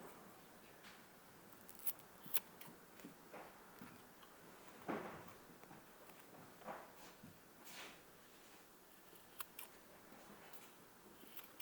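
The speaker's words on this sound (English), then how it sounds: "So I like to take scissors, start at the very top here, put that 45 in there." Scissors snip through a rubber door seal for an International Scout 800 in a handful of quiet, separate cuts, each a short crisp crunch against a faint background, with no talking.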